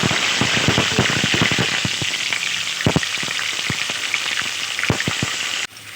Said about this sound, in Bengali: এবার চিকেনগুলোকে এপাশ ওপাশ উল্টে আমি ভালোভাবে ভেজে নেব।